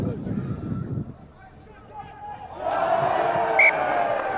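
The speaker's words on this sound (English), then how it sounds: "you'll hear from the cheer from the crowd at Meggetland" A commentator talks over a rugby match at Meggetland between Boroughmuir Bears and Ayrshire Bulls, then the crowd breaks into a broad, sustained cheer that swells and stays loud.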